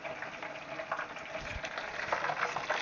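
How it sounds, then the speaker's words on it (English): British-style chips sizzle and crackle in hot oil, a soft continuous frying hiss with small pops and bubbling, fairly quiet and close. "once they start frying, we can move them around a bit so everything does get cooked evenly"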